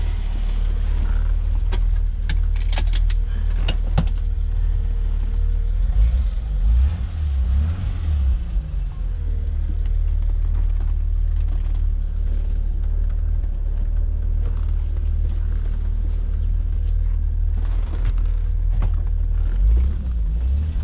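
A BMW E30 driving on the road after a clutch master and slave cylinder replacement, with a steady low engine rumble and road noise throughout and small shifts in pitch as it moves, close and continuous with no one talking.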